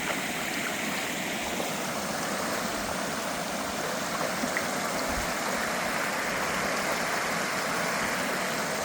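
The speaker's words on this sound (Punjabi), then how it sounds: "ਪੁਲ ਦੇ ਉੱਪਰ ਦੀ ਪਾਣੀ ਆ ਰਿਹਾ ਦੇਖੋ ਆ ਸਾਰਾ ਕਿੰਨਾ ਬਹਾ ਜਿਵੇਂ ਨਹਿਰਾਂ ਚੱਲਦੀਆਂ" Drain water pours across the top of a bridge on a road by a gurdwara, making a loud, steady rushing roar like a stream, constant and close throughout with no speech.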